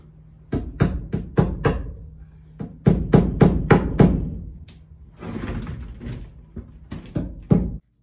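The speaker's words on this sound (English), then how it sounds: "all that pounding of the hammer" Sharp hammer blows driving screen nails into a window frame strike in quick bursts, three clusters of four or five hits each, loud and close, with short pauses between.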